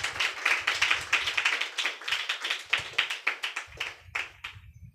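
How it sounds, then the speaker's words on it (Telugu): A church congregation clapping together during a Sunday service, quick rhythmic claps in a steady beat with a couple of brief pauses, heard alone without talk. "చప్పట్లు కొడతారా?"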